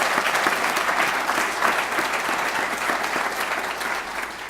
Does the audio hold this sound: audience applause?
yes